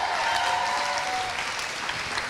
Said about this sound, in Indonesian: Sekali lagi tepuk tangan buat Indra Frimawa.